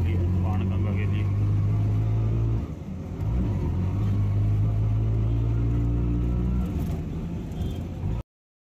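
An auto rickshaw carries pilgrims toward Banganga on the Vaishno Devi yatra. Its engine holds a steady, loud low drone that briefly dips near the third second, with faint voices in the background.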